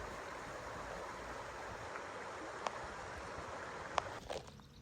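Matilija Creek in Los Padres National Forest flows as a soft, steady wash of water, faint and continuous, with a couple of brief sharp clicks near the end.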